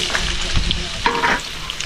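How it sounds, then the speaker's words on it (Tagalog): Vegetables fry and get stirred in a hot pan, a steady close sizzle with scraping stirs, no talk heard. "prito-prito muna natin ng konti yung ating gulay."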